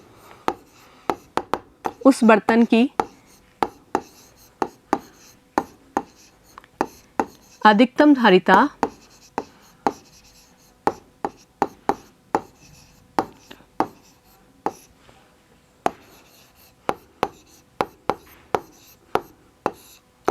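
Chalk or marker writing on a board during a Hindi-language school maths lesson, heard as rapid sharp taps and scratchy strokes in repeated bursts beneath a teacher's speech.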